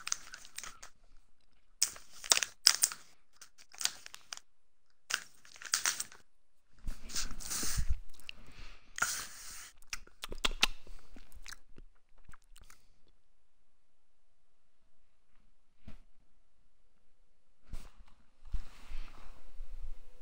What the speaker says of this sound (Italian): Mastica a bocca aperta, a bocca chiusa.